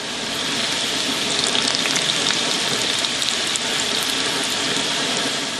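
Cold french fries fry in oil at 350 degrees, giving a loud, continuous close-up sizzle and bubbling hiss that holds steady throughout without pauses or talk.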